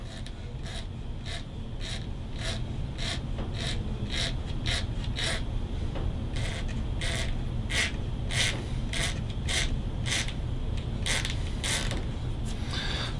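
A piece of wood scraping along a guitar fretboard beside the frets to clean off bled paint or dye, heard as steady, rhythmic rasping strokes repeating close up, with no talk.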